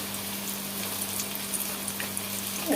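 Eggplant fries in hot oil with a dense, steady crackling sizzle, close and continuous, over a low constant hum.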